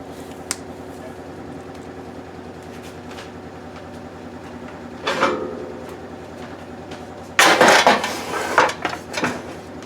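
Meatloaf mixture of ground meat, oatmeal and seasoning scraped and pressed into a pan, with a few clattering knocks of a utensil against the dish, louder toward the end, over a steady low kitchen hum.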